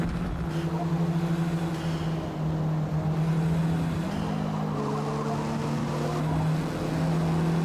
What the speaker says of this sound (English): The opponent's cars are really loud.